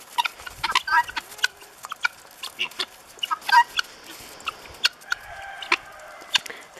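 Repeated sharp, chattering calls from several guinea fowl, some close and loud, others farther off, in uneven bursts over steady outdoor background on a snowy winter day.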